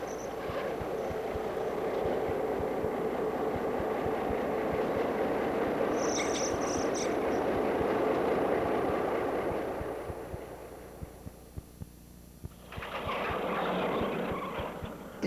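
A train running at the Cobh quayside station in Ireland, a loud steady rumble with rhythmic wheel clicks over the rail joints, easing into quieter clacks before a brief hiss.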